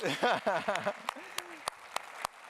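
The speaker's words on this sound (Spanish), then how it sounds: "Este aplauso es para todos ustedes, sí, que se escuche." Sparse applause for graduates from a church congregation: a voice speaks at first, then single sharp claps land at a steady, unhurried pace, each one distinct against a quiet background.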